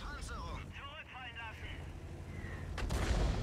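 A tank cannon fires a high-explosive shell in an online tank battle game, a single booming blast near the end over low engine rumble, with a voice commenting throughout.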